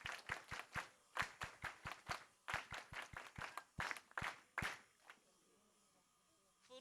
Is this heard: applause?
yes